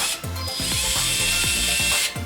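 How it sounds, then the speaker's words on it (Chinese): Screwdriver driving an M2×5 bolt into a robot leg linkage on a small gear-driven walking-robot frame, giving a close, steady run of rapid ratcheting clicks with a buzzy mechanical whir. "用 M2×5螺栓固定连杆"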